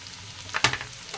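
Potato, onion and ginger-garlic paste frying in a pan, a soft steady sizzle with one sharp louder crackle and stir midway, close and without speech.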